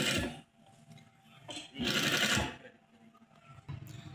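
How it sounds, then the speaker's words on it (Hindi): Sewing machine stitching around the corner of a shirt cuff, running in short bursts of rapid mechanical whirring with brief pauses between them, close up and moderately loud. "उसके बाद आपने इस तरह से कॉर्नर पे सिलाई लगा लेनी है।"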